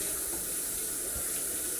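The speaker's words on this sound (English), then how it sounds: "I'm going to rinse this all off" Tap water runs steadily while a food container's lid is rinsed out at a kitchen sink, a continuous close splashing hiss filling the whole short stretch with no talking.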